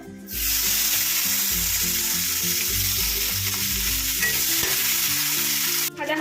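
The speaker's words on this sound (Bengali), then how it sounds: "মশলা ভাজা হয়ে গেছে এবার পেঁয়াজগুলোকে দিয়ে দেবো" Onions frying in oil with bay leaf, dried chilli, black cumin and spices for a katla fish curry, a loud continuous sizzle close up, with no talking.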